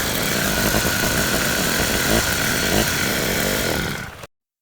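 A small engine runs steadily after carbon removal, with the exhaust and hanger bolt refitted and tightened. The buzzing drone is loud and close, then cuts off sharply near the end.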